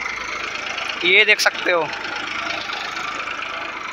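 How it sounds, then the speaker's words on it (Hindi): A Massey Ferguson 7235 DI 35 HP tractor engine runs steadily at 1000 RPM with a loud, constant mid-pitched drone, while someone speaks briefly over it. "कितने प्यार से ट्रैक्टर चल रहा है"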